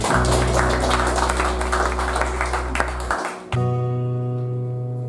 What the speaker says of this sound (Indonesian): sekali lagi mari kita tepuk tangan untuk